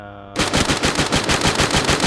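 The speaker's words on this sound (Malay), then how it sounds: "Bagaimana dia membuat tembakan." Rapid automatic gunfire during a Free Fire video game match, a steady loud burst of evenly spaced shots that starts abruptly after a brief quiet moment and continues to the end.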